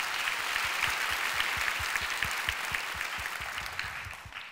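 An audience at a Korean church worship service claps steadily throughout, a dense sustained round of applause that fades slightly toward the end.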